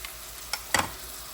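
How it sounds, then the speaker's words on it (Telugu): Onion pieces dropped into hot oil in a pan, two brief sizzling bursts over a faint hiss, quiet and close. "ఇప్పుడు ఉల్లిపాయ ముక్కలు వేస్తున్నా."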